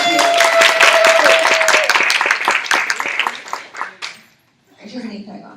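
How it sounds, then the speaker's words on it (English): An audience at a live event applauds as a woman walks up to the front, with dense, close clapping that fades out, then a brief murmur of voices after a short pause. "Round of applause as she makes her way up here."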